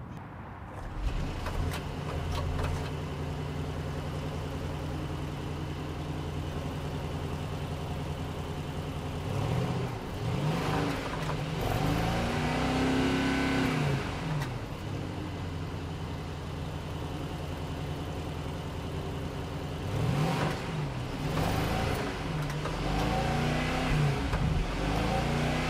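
A 2023 Mercedes-Benz S580 V8 sedan idles with a steady exhaust rumble, then revs in several rising and falling bursts, close and loud with no talk over it.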